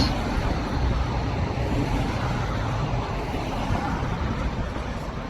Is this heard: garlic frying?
no